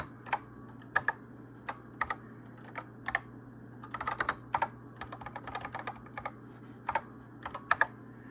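Keys on a computer keyboard clatter in short irregular bursts and single taps over a steady low hum, close and fairly quiet, while a command is entered on a NABU computer terminal.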